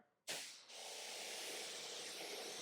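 A foam cannon water sprayer pushes a line of froth across a vehicle during a wash, starting with a sudden loud hissing burst that settles into a steady, close spray.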